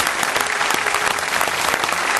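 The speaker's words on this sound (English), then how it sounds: "Please give them a round of applause." A studio audience at The Einstein Factor quiz show's 2007 play-off gives warm, thick applause, a loud unbroken wash of clapping from many hands filling the whole moment.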